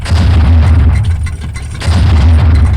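A firework fountain bursts at a festive gathering with heavy, rumbling booms. The blasts are loud and close and fill the whole moment, with a brief dip in the middle.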